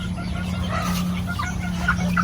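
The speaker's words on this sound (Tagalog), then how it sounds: "Yung mga sisiyo natin nandito." Chickens and chicks cluck and peep faintly against a steady low electrical hum, in scattered short calls, in the Philippines.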